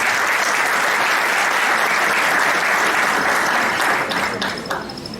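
An audience at a ceremony gives loud, steady, dense applause that fills the whole stretch and eases slightly at the end.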